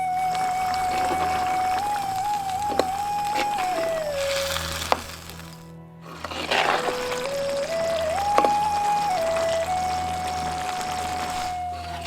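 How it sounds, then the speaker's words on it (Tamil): Half a litre of water poured into a cooking pan while making kuppa keerai vegetarian liver fry: a continuous close pour with sizzling, broken by a brief pause midway before the stream resumes. "1/2 லிட்டர் தண்ணியை ஊத்தி கொதிக்க விட்டுருவோம்"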